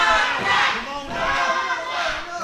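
A wrestling event crowd cheers and shouts in loud, swelling waves, with chanting voices rising and falling across the arena.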